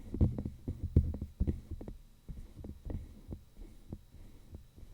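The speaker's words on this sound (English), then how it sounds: "that's the sort of noise that just moving my fingers on it while I'm speaking makes on the Nexadyne" Fingers rub along the body of a Shure Nexadyne NXN8/S microphone, giving a low, muffled rumbling and thumping handling noise with uneven pulses, close and fairly quiet, with no talking.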